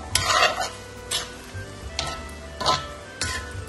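A tomato curry with fried boiled eggs stirred in a pan, bursts of scraping and sizzling roughly every second against a low simmer, close up and without talk.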